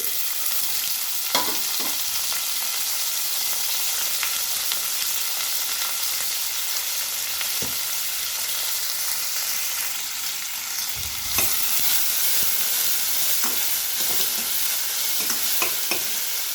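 Onion and tomato sauté in hot oil in a pan, making a steady, close sizzle across the whole stretch with occasional stirring scrapes. No one speaks over it.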